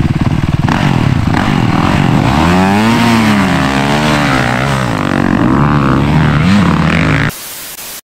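A motorcycle pulls away with a loud, rising engine note that sweeps up and down through the gears, then cuts off abruptly at the end.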